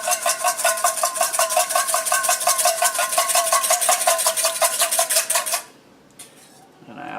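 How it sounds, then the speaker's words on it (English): A whisk beating salad dressing in a bowl: rapid, steady metallic rattling close by and loud for about five and a half seconds, then stopping abruptly, leaving faint room noise. "So I want to whisk this back together real quick."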